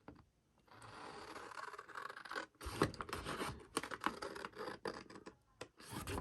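A paper trimmer slices a square off cardstock for an explosion box, giving a run of scraping, rasping cuts with short pauses between strokes, close and moderately loud with no talking.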